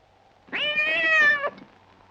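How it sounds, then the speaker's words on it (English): A cat gives a single clear, drawn-out meow lasting about a second, close and distinct against a quiet background. "Just a cat."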